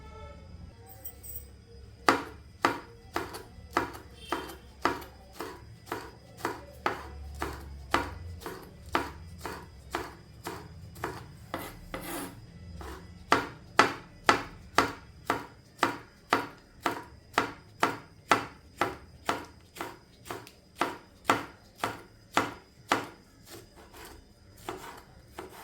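An onion chopped by hand with a knife for rava vada, heard as a long, steady run of sharp, evenly spaced knife strikes on a board, close and clear, with no talking.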